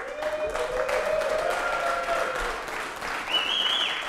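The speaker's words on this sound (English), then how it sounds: "clap really, really loudly and cheer for me, so loud that they can hear it over there" A conference crowd at a Cassandra tech event claps and cheers loudly, dense applause throughout with a few whistles and shouts rising above it.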